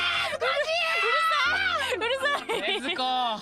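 A voice imitates the frantic, high-pitched anime yelling of the character Zenitsu, a continuous strained wail with wavering pitch that rises and breaks, loud and close.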